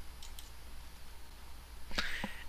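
A couple of sharp computer mouse clicks land close together near the end, sounding crisp and near against a quiet room hum.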